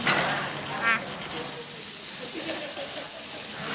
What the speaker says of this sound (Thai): น้ำมันกำลังปุดๆ อันนี้คือเนยนะคะ ปุดๆ เลยปุดๆ ดูดิน้ำมันกระเด็น